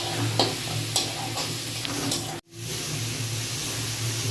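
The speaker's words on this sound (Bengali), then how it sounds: "এবার রসুনটাকেও ভালো করে ভেজে নেবো যাতে রসুনের কাঁচা গন্ধটা কেটে যায়।" Garlic paste frying in oil for an echor chingri (jackfruit and prawn) dish, a steady sizzle with a few scraping stirs, then a brief sharp cutoff before the sizzle resumes.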